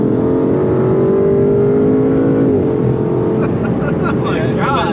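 Aston Martin DBS Superleggera pulling hard on a street, a loud, steady engine roar with rising tone that shifts as the revs climb, up close and continuous throughout.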